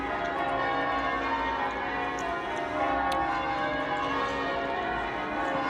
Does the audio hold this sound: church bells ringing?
yes